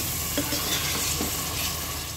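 Ground masala paste roasts in hot tempering oil in a pan while being stirred for a traditional Maharashtrian colocasia-leaf tamarind-jaggery bhaji, a continuous close sizzle with occasional scraping strokes of the spoon.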